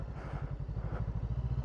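A motorcycle engine thrumming at a steady, rapid pulse while riding over rough road, close and loud with faint rattling over the rhythm.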